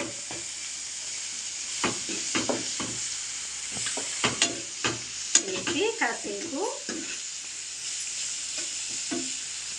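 Tomato pieces fry in a hot pan, a continuous close sizzle broken by repeated clinks and scrapes of a stirring spoon, with a busier burst of stirring midway.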